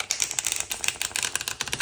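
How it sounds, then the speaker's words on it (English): A deck of tarot cards is shuffled by hand in a close, rapid burst of crisp overlapping card clicks and flutters, with no talking. "If you've ever watched me do readings with this deck, I struggle shuffling them."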